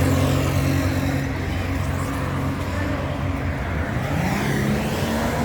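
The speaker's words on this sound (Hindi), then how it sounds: "और ये मेन रोड है, गाड़ियों की आमदोरफ्त" Vehicles stream past on a busy main road in Iraq, a steady loud rumble of engines and tyres with droning hums from passing cars and trucks, nearby and continuous throughout.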